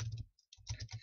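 Computer keyboard typing while building a Roblox game: a quick cluster of clicky keystrokes, a brief pause, then another burst of rapid keys, close and fairly loud.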